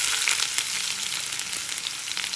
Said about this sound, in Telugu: ఉల్లిపాయని కొద్దిగా వేగనివ్వాలి.